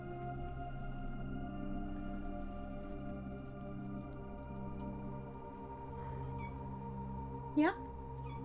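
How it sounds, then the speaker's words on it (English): Ren, a female pet cat, gives a single short, rising meow near the end over a quiet room with a steady low hum, while a person talks softly nearby. "Oh, I'm being meowed at."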